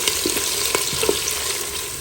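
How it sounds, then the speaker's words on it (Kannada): Onions fry in a pan until browned, a dense steady sizzle with a few soft stirring scrapes and pops, close and continuous with no talk. "ಈರುಳ್ಳಿ ಕಲರ್ ಚೇಂಜ್ ಆಗೋವರೆಗೆ ಇದನ್ನು ನಾವು ಹುರ್ಕೊಳ್ಳೋಣ ಚೆನ್ನಾಗಿ."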